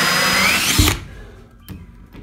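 A power tool runs with a loud, rising whine while slowly cutting through plywood, then stops abruptly and leaves a couple of short knocks and faint handling sounds.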